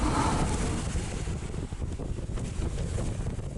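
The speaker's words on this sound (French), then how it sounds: "Ce bruit est provoqué par l'air du coup de dérive qui entre et sort d'un trou dans le cockpit" Air rushes in and out of a hole in a sailboat cockpit where the centreboard cable passes, a gusty, fluctuating whoosh with low rumbling swells, loud at first and easing slightly.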